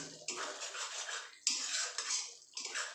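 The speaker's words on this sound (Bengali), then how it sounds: "এবার আমি এটাকে ভালো করে মিশিয়ে নেবো" A potato and pointed gourd curry with sesame is mixed in a pan, giving a continuous close scraping and clattering of a utensil against metal in several rising and falling waves. No one talks.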